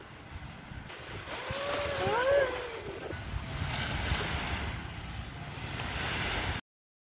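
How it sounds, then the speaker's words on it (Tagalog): Ocean waves washing onto the shore at Halfmoon Beach, a steady, broad rush of surf mixed with wind buffeting the microphone and a brief voice-like tone early on. "Narinig nyo na yung narinig ko, ang hampas ng alon sa dagat."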